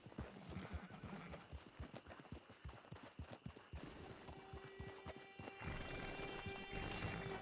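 Horse hooves clip-clopping in the Red Dead Redemption 2 video game, a quick, even run of close hoof strikes that slows and fades, giving way to a quieter ambient bed with soft tonal sounds.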